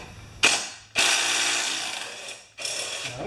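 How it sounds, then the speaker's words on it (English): Electric impact wrench on a Briggs small engine, fired in about three bursts of loud rattling hammering, each starting sharply and fading, close up with no talk. "my special electric impact"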